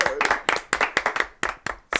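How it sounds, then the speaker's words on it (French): An audience claps for a guest arriving on a talk show, a close, loud burst of rhythmic hand clapping with distinct slaps throughout, and a few voices mixed in. "Je vous demande de l'applaudir très très fort."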